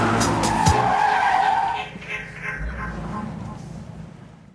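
A standard car does donuts in a confined space at a donut world-record event, its tires screeching in a loud sustained skid that fades out, with engine noise underneath and a voice talking faintly.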